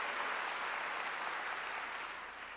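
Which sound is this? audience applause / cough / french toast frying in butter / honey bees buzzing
audience applause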